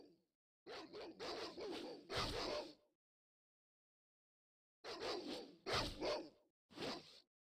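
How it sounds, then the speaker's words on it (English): Dogs barking in the video game Baldur's Gate Enhanced, in two clusters of sharp, close barks separated by a few seconds of silence. "Dogs."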